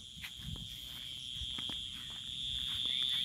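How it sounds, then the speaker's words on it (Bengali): Crickets chirp in an evening village in rural Bengal under the moon. They make a steady, shrill drone that carries throughout and swells slightly toward the end, with soft scattered rustles and thumps beneath. "ঝিঝি পোকার শব্দ।"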